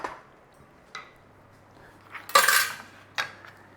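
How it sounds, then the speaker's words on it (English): A spoon stirs chicken and its juices in a pan, making a few scattered clinks and scrapes against the metal, with one louder scrape midway, close and otherwise quiet. "Give that a stir through."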